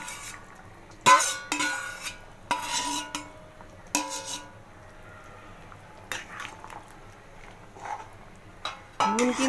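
Potatoes and pointed gourd being stirred gently into boiling milk in a pan, with intermittent metal spoon clinks and scrapes against the vessel over a low simmering hum.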